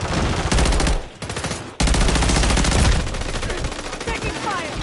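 Loud rapid automatic gunfire from a Call of Duty video game rattles in sustained bursts, with a brief pause before the firing resumes at full intensity.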